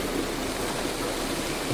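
Water flows steadily out of a pond in a small stream where a crab trap sits, a continuous even rushing hiss with no voices.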